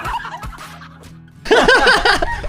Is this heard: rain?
no